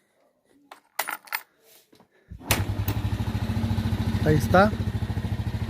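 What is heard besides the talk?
Italika Z150 motorcycle engine starting and idling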